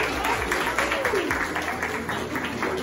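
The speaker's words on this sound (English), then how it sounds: "So another round of applause for those people coming out and supporting." A crowd at a photography exhibition claps in a steady, moderately loud burst of applause, with voices and some talk mixed in beneath the clapping.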